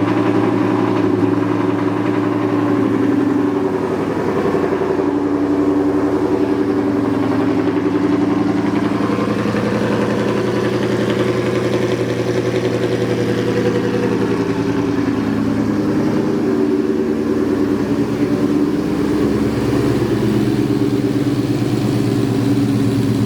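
A new 5.0 V8 motor runs steadily and loudly under load for over twenty seconds, a continuous close engine drone with slight swells and no speech.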